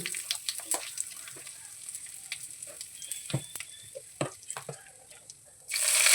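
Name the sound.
nigella seeds and asafoetida frying in oil in a wok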